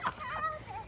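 Chickens, including a Barred Rock, cluck softly nearby, a few short throaty clucks in quick succession.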